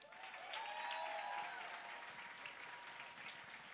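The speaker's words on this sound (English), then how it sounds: "Round of applause for Tom" Audience applause for keynote speaker Tom Ferry at a real estate event, a steady wash of clapping from a crowd that swells briefly and then holds, with faint voices mixed in underneath.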